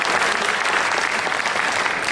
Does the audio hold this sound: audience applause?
yes